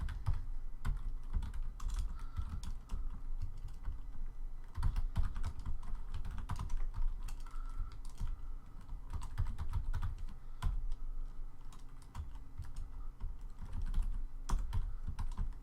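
Steady typing on a computer keyboard, close and quiet, with rapid irregular key clicks and occasional heavier strokes continuing throughout, no voices.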